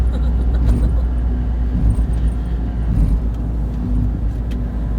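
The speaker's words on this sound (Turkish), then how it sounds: "Ehliyet, ehliyet arabası gidiyor arkadaşlar." A driving school car rolls past on the road, a low steady tire and engine rumble with faint traffic in the background and occasional light clinks, continuous and moderately close.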